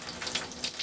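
Warm water running from a kitchen tap, a brief steady hiss of flow with no voices.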